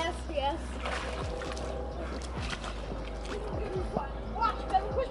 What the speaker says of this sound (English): don't splash it, Javen!